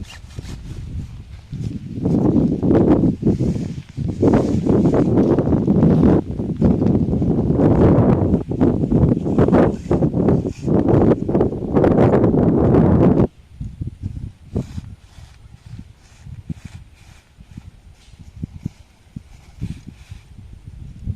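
Strong wind gusts roar and buffet for several seconds at Thalamuttiyani Para, a hilltop tourist spot in Kottayam, then ease into quieter, intermittent rustling and flapping.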